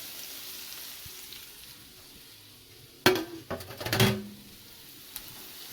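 Cabbage fries in a pan with a soft, steady sizzle underneath, interrupted partway through by a short burst of sharp clanks and scrapes as the cooking is stirred, then settling back to a quiet hiss.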